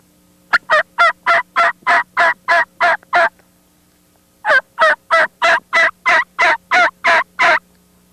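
Turkey call imitating an excited hen turkey yelping: two loud, close series of about nine evenly spaced raspy yelps each, separated by a short silent pause.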